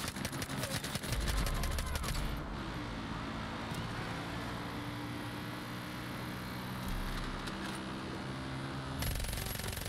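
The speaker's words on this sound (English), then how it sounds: "There's a fire mode switch that switches it from, depending on the gun, automatic to 3-round burst to single fire." Rapid bursts of gunfire from the video game Far Cry 5, a sharp rattling volley at the start, then a steady rumbling engine-like drone with scattered pops that ends abruptly near the close.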